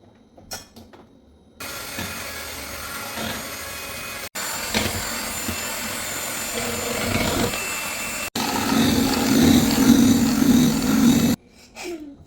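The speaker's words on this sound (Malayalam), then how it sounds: "ആദ്യം നമുക്ക് എഗ് വൈറ്റിനെ ബീറ്റ് ചെയ്യാം" An electric hand mixer beating egg whites for chocolate chip muffins, a loud steady motor whine in several bursts separated by brief pauses, starting and stopping abruptly.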